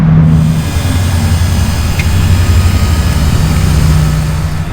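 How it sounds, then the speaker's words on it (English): Hydraulic cab lift on a Tico Pro Spotter yard truck raising to reach the engine compartment, a loud steady low hum and drone of pump and engine running continuously with no voices. "To access the engine compartment, all we have to do is raise the cab"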